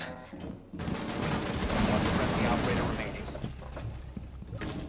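Dense, sustained gunfire from Rainbow Six Siege, rapid bursts of shots overlapping loudly and continuously through the whole stretch with little pause.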